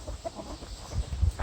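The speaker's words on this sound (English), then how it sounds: "Hey chickens!" Chickens clucking softly in a backyard garden in northern Maine in summer, a few low clucks growing slightly louder toward the end.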